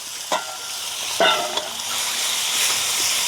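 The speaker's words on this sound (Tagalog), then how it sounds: "Magigisa na tayo. Mantika. Bawang, sibuyas at luya." Garlic, onion and ginger sauté in hot cooking oil for a country-style tinola, giving a steady soft sizzle broken by a few sharp spatula scrapes and stirs near the start.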